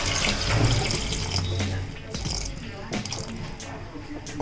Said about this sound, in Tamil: தேவையான அளவுக்கு தண்ணி ஊற்றணும்.